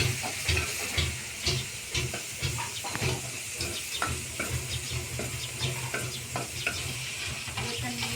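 Garlic and curry leaves sizzle steadily in hot oil, the tempering for kadhi, with a constant frying hiss. A spoon scrapes and stirs the pan in close, repeated strokes.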